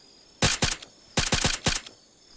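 Gunfire sounds in the military simulation game Arma 3: two quick bursts of sharp shots, three and then four cracks, loud and close against near silence.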